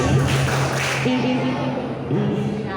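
An elementary school class performs a rhythmic clapping chant, the tepuk PPK, with children's voices chanting in unison over sharp patterned claps in a classroom.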